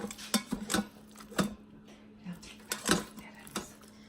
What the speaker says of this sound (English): I'm gonna stir it up just a little bit.